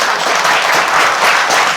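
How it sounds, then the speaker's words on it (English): Audience applause for a panel discussion, a dense, loud burst of many hands clapping steadily throughout with no gaps. "Panelists, please give them a round of applause."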